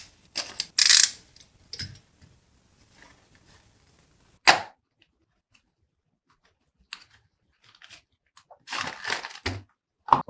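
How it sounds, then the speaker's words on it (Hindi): A Beyblade Rock Scorpio T125JB box being opened, with sharp crinkles and snaps of cardboard and plastic packaging in irregular bursts separated by near-silent gaps. "So now let's get to the unboxing."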